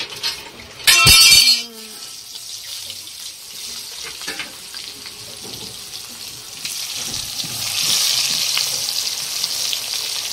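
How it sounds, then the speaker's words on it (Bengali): Raw jackfruit fries in hot oil for a jackfruit biryani. A steady sizzle grows louder and brighter toward the end, after a brief burst of running water near the start, with no voices. "এই তেলটার ভেতরে আমি ইঁচড়টাও আর একটু ভেজে নেব।"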